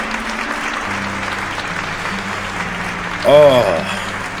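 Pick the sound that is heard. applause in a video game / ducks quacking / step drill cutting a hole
applause in a video game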